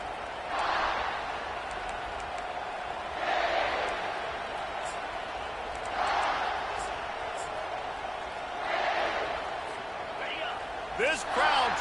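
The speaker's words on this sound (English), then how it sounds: "This crowd trying to show them what it's going to be like all day in this house." A home stadium crowd at a South Carolina vs Louisville college football game roars in rhythmic swells every few seconds, a broad wash of noise under steady commentary.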